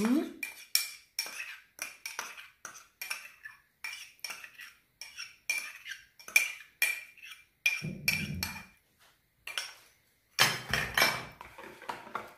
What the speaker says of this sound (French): Je mélange bien tous les ingrédients.